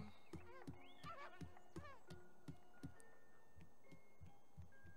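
A horse in The Sims 3 video game neighs in a rising whinny while hooves clip-clop in a steady rhythm underneath, heard at low volume.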